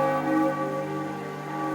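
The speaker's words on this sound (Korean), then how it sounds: "멀리서 들려오는 종소리" A church bell's long ringing tone hums and sustains with rich overtones, steady and moderately loud, with no speech.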